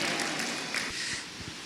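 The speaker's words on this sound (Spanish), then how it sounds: "Denle un aplauso al Señor" Congregation applause fills a church service, a broad continuous clatter of many hands with a few dull thumps, steady and moderately loud without speech.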